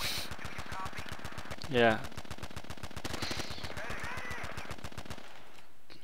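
Rapid, steady automatic gunfire from Battlefield 2 rattles nonstop for about five seconds in a chaotic battle, loud and close, with a brief spoken reply cutting in partway through.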